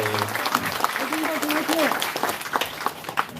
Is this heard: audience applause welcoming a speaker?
yes